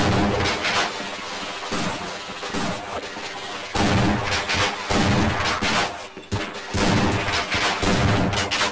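Heavy gunfire in the video game Half-Life, dense loud bursts of shots and booms running continuously throughout, with the shotgun blasts blending into a barrage of other weapon fire.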